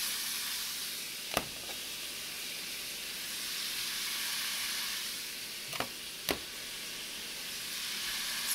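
Steak, pepper and onion sizzling as they brown in a pan, a steady loud frying hiss throughout, broken by a few sharp clicks of a utensil against the pan.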